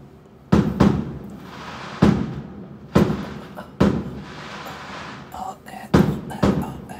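Firecrackers pop one after another at uneven intervals, loud sharp bangs each trailing off into a rumbling echo.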